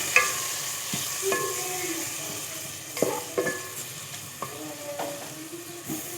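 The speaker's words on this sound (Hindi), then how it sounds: "अब कीमे को फ्राई करेंगे 5 मिनट तक कीमे को फ्राई करेंगे।" Minced meat keema frying in a pan for a Pakistani choliya keema dish, with a steady sizzle under repeated clinks and scrapes of a spoon stirring the pan, close and alone with no talk.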